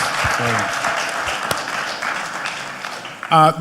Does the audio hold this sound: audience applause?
yes